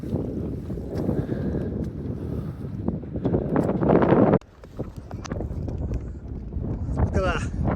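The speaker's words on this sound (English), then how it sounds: "Windy, heavy snow coming in" Strong wind roars and buffets the microphone in an ice and snow storm on the mountain Arenig Fawr, a loud, steady gusting rumble that drops off sharply for a moment before building again, with indistinct voices underneath.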